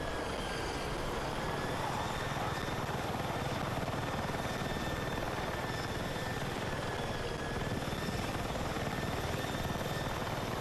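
A helicopter in the Battlefield 6 video game flies steadily throughout, its rotor thump and engine whine loud and continuous with no talk over it.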